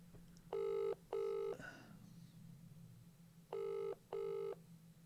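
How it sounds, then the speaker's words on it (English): Telephone tones, two pairs of identical electronic beeps separated by a short pause, with a brief rustle between, faint hum underneath. "Excuse me, I've got to make a phone call."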